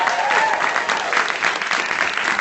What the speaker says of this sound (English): a big last round of applause for the person